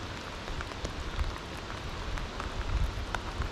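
Heavy rain pours down steadily outdoors during fall salmon fishing, a dense, even hiss of drops hitting water and surfaces nearby with no pauses and no talking.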